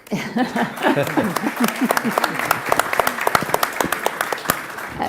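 Panel audience applauding after a talk on carbon-free aircraft, steady crowd clapping throughout with a little laughter and murmuring voices underneath at the start.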